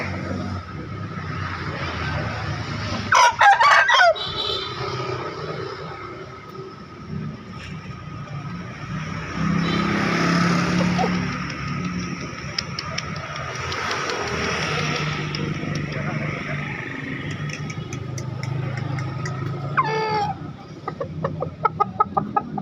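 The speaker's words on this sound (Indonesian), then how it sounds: "Ayam muda." Chickens cluck and chatter at a chicken market in Makassar, with a steady background hum, occasional louder bursts of fowl calls standing out.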